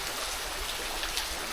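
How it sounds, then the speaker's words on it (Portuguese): Water dripping from plant roots into clear spring water welling up from the ground, a steady rain-like patter and trickle heard close up and fairly quiet, with no voices. "É as raízes mesmo que pingando em uma água que vem do solo mesmo."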